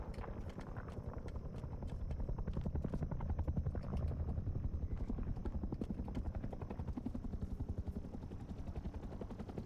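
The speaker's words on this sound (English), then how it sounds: "That heli looks so fucking cool." Helicopter in a video game with a steady, rapid rotor chop throbbing throughout, fairly quiet and continuous, with no voices over it.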